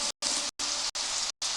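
Rain falling in the survival game Day R Survival, a steady hiss arriving in four short bursts separated by brief silent gaps, with no voices.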